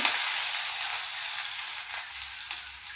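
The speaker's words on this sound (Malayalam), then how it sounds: "അതിലേക്ക് കുറച്ച് ഇട്ട് ഉള്ളി ഇട്ട് കൊടുക്കാം" Onions frying in hot oil in a clay pot for a coconut-free sardine curry: a steady, bright sizzle that holds evenly throughout, close and fairly loud, with faint stirring and no talk.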